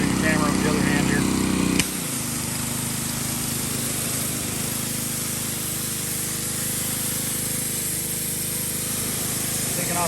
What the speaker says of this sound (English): it's time to power wash the headache rack and the bed